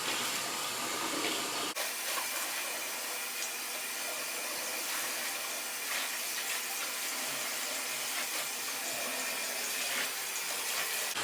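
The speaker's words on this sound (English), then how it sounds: "And I'm going to fill the bucket." Hot water pours from a tap into a bucket for brush cleaning, a steady loud rushing splash that starts abruptly and continues unbroken to the end.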